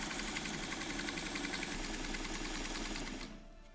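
A sewing machine stitches quilt blocks in a steady rapid rhythm that stops near the end, loud and close with no talking.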